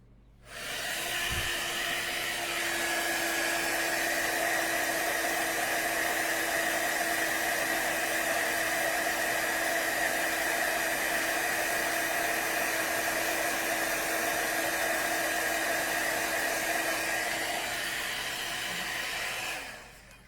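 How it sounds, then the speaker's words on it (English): A heat gun blows hot air over a paper card for about twenty seconds, a steady, close, hissing whoosh with a faint whine that starts and stops abruptly. "So last time with the heat gun for this card."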